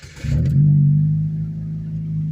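A Chevrolet Cobalt engine cranks briefly, then catches and settles into a loud, steady high idle with a strong low hum that eases slightly toward the end.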